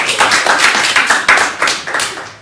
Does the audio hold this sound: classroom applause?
yes